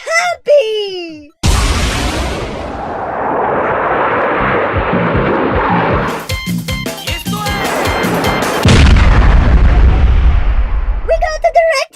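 Game cannons fire in a co-op Super Mario plush game, a sustained roar of booming blasts and rumble running several seconds, with excited voices shouting over and around it.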